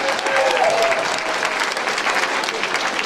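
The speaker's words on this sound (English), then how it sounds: "So let's give another big round of applause." Audience at a school Grinch stage production applauding young performers, including third graders: dense, steady clapping fills the room throughout, with a faint voice or tone briefly audible early on.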